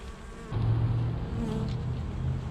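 Honeybees buzz close by during a November hive inspection, a steady droning hum that swells after a brief quieter start and holds through the short stretch, with no talk.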